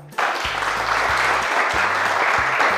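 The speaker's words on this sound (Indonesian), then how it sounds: "berikan aplaus untuk kelompok 1" Students in a classroom clap for a student group after its presentation, a dense burst of applause that starts abruptly and holds steady at close range.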